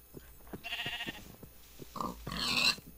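Grunting squeals of a pig in the Minecraft video game, several short snorts followed by longer, louder oinks building toward the end, close and clear.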